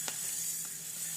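Black cumin seeds sizzle steadily in a hot, heavy pan, a close and continuous frying hiss with a couple of faint stirring ticks.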